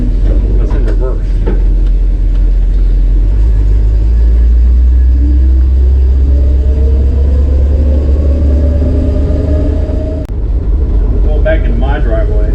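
A car reversing into a home driveway with a deep, steady engine rumble right up close and a slowly rising whine from the transmission pump, with no talking.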